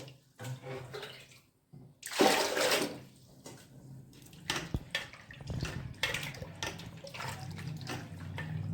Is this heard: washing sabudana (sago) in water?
yes